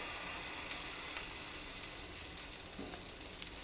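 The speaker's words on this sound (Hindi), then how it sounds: "अब हम 1 चम्मच बैटर डालेंगे।" Besan (gram flour) cheela batter sizzles in a pan over a medium flame, a soft, steady hiss of frying with faint crackles and no voices.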